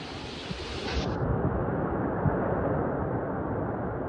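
Storm-driven ocean waves surge during Hurricane Helene in Florida: a loud, steady, wind-blown roar that holds unbroken throughout, with no voices.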